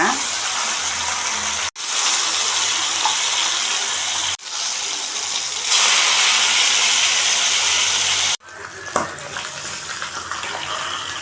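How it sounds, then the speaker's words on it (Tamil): Masala-coated fish frying on a hot tawa, a steady loud broadband sizzle that runs unbroken for several seconds at a time, with brief sharp cuts and a few faint clinks as the pieces are turned. "அப்படியே மசாலா தடவி வச்ச மீனை வந்து தவாவில் வச்சுக்கலாம்."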